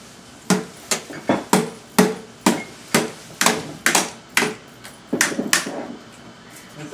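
A child strikes a toy tractor with a hammer, giving about fifteen sharp, light knocks in a fairly steady rhythm at close range, with a few quicker taps near the end.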